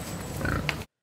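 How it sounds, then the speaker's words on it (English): A single short pig oink or grunt, close and fairly loud, cut off abruptly, with no voices. "Number 6 is to be fed one live pig every 48 hours."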